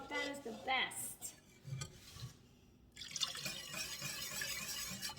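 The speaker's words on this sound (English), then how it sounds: "You're going to have to whisk, whisk, whisk." A whisk clinks and swishes against a pot of store-bought chicken broth, bright metallic scraping coming in quick bursts with a short pause, close and quiet; a faint voice sounds briefly at the start.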